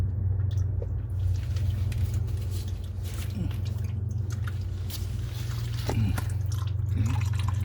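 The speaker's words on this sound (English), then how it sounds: "Okay, there's the oil there. So it's dripping." Engine oil drips and trickles as it drains from a 2017 Acura RDX, a steady wet pattering over a low continuous hum, close by and with no talking.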